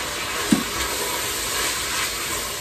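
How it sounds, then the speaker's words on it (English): Tomato paste being stirred into a simmering pot of Italian sausage tortellini soup, with one short knock of a spoon against the pot over a continuous sizzle and hiss, close and without talk. "Give that a good stir right in there."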